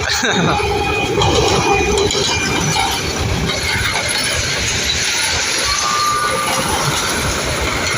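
A train passes close by, a loud continuous rumble with rattling wheels and high metallic squeals, steady throughout and drowning out the surroundings.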